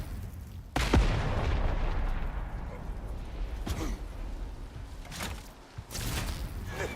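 Tracking grenade explosions boom in a shooter video game, with a sharp blast followed by rumbling decay and several more bursts of booming impacts over a low background rumble.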